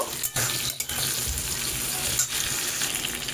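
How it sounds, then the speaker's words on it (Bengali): Vegetables frying hard in hot oil as grated ginger and split red chillies go into the pan, a steady loud sizzle with a few brief stirring breaks, no voices. "এই আদা ঘষা আর এই লঙ্কাগুলোকে আমি এতে দিয়ে দিচ্ছি"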